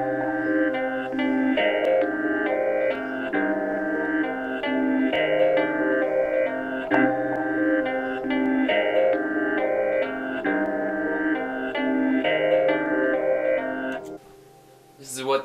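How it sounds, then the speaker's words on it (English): A keyboard plays on its own as part of a live-instrument beat, holding a steady, full chordal pattern with rhythmic accents throughout, then cutting off abruptly near the end with a short burst of noise. "This is what the keyboard sounds like alone."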